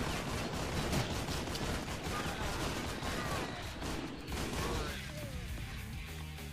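Dense, continuous gunfire rattles through the Painkiller HD video game in a graveyard level, loud rapid bursts and blasts stacked over one another without a break.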